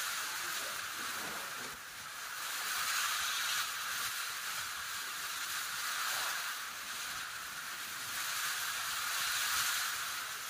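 Continuous hissing heavy rain on the Kurduwadi–Madha road, with gusts of wind that swell and fade every few seconds, fairly soft and even throughout.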